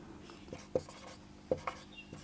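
Pen or chalk writing notes during a Class 11 biology lecture, a few short scratchy strokes and taps at close range over a quiet room hum, with no talking.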